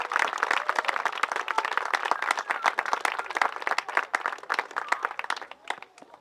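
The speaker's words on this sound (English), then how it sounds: "give them a huge round of applause for the efforts that went into it" Applause from an audience at a dedication event honouring kids' efforts, a dense burst of many hands clapping steadily for several seconds at moderate loudness, with no talk over it.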